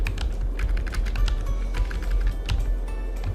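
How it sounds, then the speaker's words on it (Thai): Rapid, uneven clatter of keys on a computer keyboard, close and continuous as someone types steadily, with no voices. "ผมก็จะพิมพ์เป็นเว็บนะครับ"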